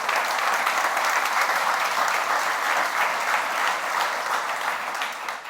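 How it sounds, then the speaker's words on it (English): Sustained applause from an audience, a dense steady wash of clapping that holds for several seconds before easing slightly. "how about a big round of applause for Troopers"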